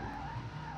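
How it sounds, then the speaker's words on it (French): A sustained tire screech of a car skidding on tarmac in the video game WRC 5, a steady high squeal over engine rumble, brief and loud. "c'est fou comme elle a glissé en fait la voiture"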